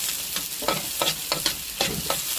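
Onion and garlic sauté in a pan for pork dinuguan, a bright sizzle broken by quick rhythmic stirring scrapes, roughly three strokes per second, close and with no voices.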